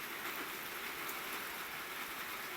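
Steady evening rain falls outdoors, a soft, unbroken hiss that holds at an even level throughout with no voices.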